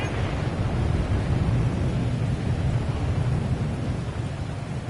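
Steady rain with a low rolling rumble of thunder in a Madden football video game broadcast, a dense constant wash that stays loud and even throughout with no commentary over it.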